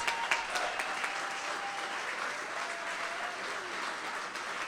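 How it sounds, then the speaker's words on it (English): Sustained applause from a conference audience for a group of presenters at a green building slam event, steady and dense throughout with light cheering. "Can we get one more giant round of applause for all of our presenters?"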